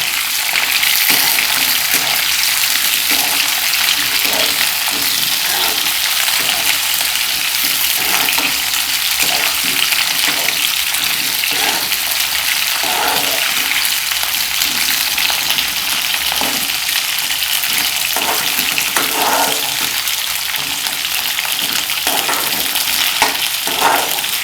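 Ivy gourd (tindora) pieces fry in a pan for curry, giving a steady, loud, continuous sizzle with small crackles and stirring clicks throughout, no voices.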